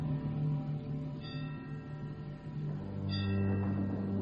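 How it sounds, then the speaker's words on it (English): A bell tolls as a sound effect in a radio drama of Macbeth, two resonant strikes a couple of seconds apart with long humming decay, fairly faint under a sustained low drone, no talking. "The bell invites me."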